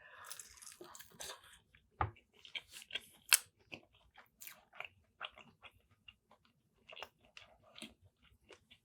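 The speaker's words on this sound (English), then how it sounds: "The thing I like about these wings is that they have a nice little crunch to them." Crunchy chicken wings bitten and chewed up close, sharp irregular crunches and wet chewing clicks at a quiet level, with short pauses between bites.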